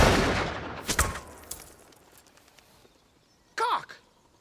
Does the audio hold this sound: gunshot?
yes